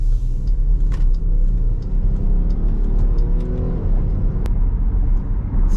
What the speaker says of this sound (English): Sounds good when you accelerate it.